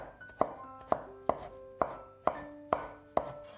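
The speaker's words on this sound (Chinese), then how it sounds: "几瓣去皮的大蒜先拍扁，再给它切成蒜末" A kitchen knife mincing smashed, peeled garlic cloves on a cutting board, seven crisp, evenly spaced chops close up, each with a short woody knock and ring.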